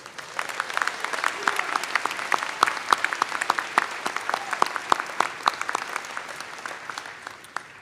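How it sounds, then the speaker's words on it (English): Audience at a university school of education commencement applauding student veterans, a loud, dense round of clapping with sharp individual claps standing out, sustained throughout. "Please join me in a round of applause for them as well."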